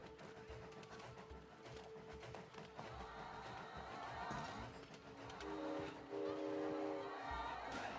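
Train in the video game It Takes Two: a steady rumbling ride with whistle-like tonal blasts toward the end, heard continuously under game sounds and light background noise.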